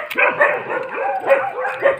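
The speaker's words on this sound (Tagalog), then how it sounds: "May aso." A dog barks and yips several times in quick succession, fairly close, with short whimpering tones between barks.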